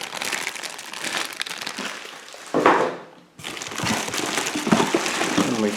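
Close, loud crinkling and crushing of a plastic bag from a jet washer box, handled continuously with a brief pause midway before the rustling resumes.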